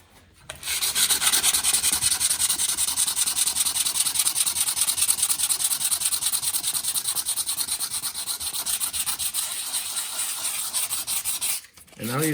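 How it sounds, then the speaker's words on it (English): Close, continuous sanding rasps across a wood surface repaired with knot filler and no epoxy, a steady scratchy rub that runs for about ten seconds between short quiet moments at the start and end. "Now we can sand it."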